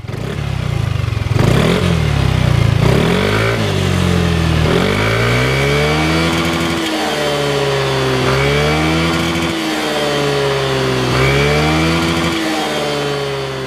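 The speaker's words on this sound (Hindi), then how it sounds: "तो गाइस अब चेक करते हैं कि यार कैसा है स्कूटर का एग्जॉस्ट।" A Yamaha Aerox 155 scooter's engine revs repeatedly, its exhaust note climbing and dropping in steady waves, loud and close, with no voices.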